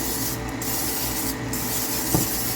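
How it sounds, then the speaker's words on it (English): Olive oil cooking spray is sprayed onto baking pans in two short, soft hissing bursts over a quiet kitchen background. "I'm going to spray both these pans"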